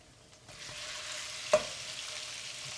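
Shrimp hitting hot oil in a pan sizzle and fry steadily, with a brief utensil clink and stirring noise partway through, close and fairly quiet, with no talking.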